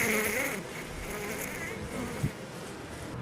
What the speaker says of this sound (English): See how she pushes through other bees, blasts through them with her wings buzzing